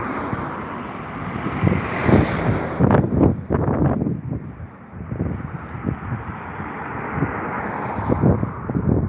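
An airliner arriving onto runway 27 left at London Heathrow, a broad steady roar with wind buffeting the microphone, staying loud and continuous throughout without any talk.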